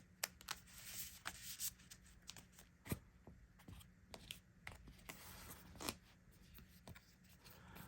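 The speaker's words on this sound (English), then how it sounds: "Shuffle that up some more." Quiet, close shuffling of One Piece trading cards: soft papery riffles and sharp flicks in an irregular rhythm, with no talking.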